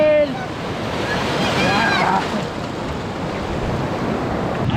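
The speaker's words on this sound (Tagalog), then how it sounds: "dito po tayo sa playa" Ocean surf washes steadily onto a beach in a broad, continuous roar with wind buffeting the microphone, and a voice briefly rises over the waves near the start.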